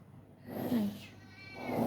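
A cat meows twice indoors, a faint drawn-out meow followed by a second, rising one near the end, close but soft.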